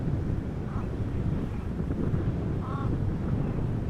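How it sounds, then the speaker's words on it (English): A breezy, chilly northern wind blows at Amsterdam Schiphol airport, buffeting the microphone as a steady low roar with no let-up. "It is a bit breezy, Dale, that is correct."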